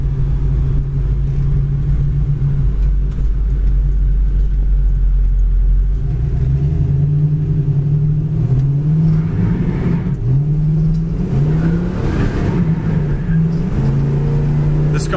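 A 1969 Pontiac Firebird with a 400 engine cruises down a dry road, its deep engine rumble steady and loud, rising in pitch as it shifts and accelerates in the second half, with someone talking over it.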